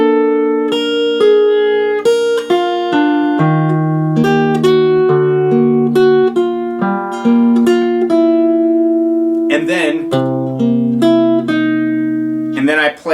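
A solo guitar picks a riff, clear individual notes ringing close and fairly loud in a relaxed melodic line, with a couple of strummed chords near the end.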